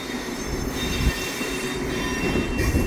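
A Via Rail train rolls slowly through the Montreal maintenance yard at Pointe St Charles, with steady wheel rumble and high metallic squeals from the rails throughout.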